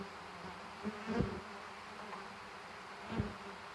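Honey bees from packages buzzing steadily during an outdoor hive installation, a continuous low drone with a couple of brief louder bumps, no talking.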